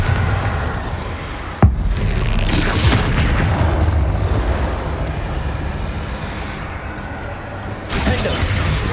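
Bombarda spell explosions in the video game Hogwarts Legacy during a mountain battle: a sharp blast cracks out over a dense, continuous rumble of combat noise, followed later by a second burst.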